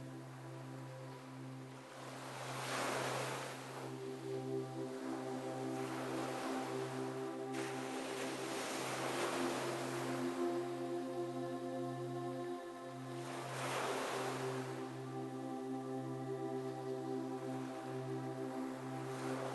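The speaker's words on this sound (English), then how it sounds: "listening to the soothing sounds of the waves as it washes over your feet, the sand, and perhaps some rocks" Gentle ocean waves wash over sand and rocks on a sunlit, empty shore, each soft swell rising and fading every few seconds over a steady low hum.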